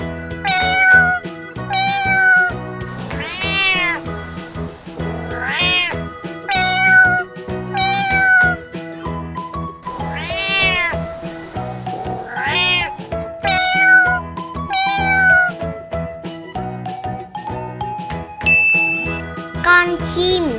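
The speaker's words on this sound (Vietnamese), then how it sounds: "Con mèo." A cat meows again and again over a backing of tinkling, chiming music, each meow a rising and falling cry that stands out clearly and loudly in a repeated rhythm.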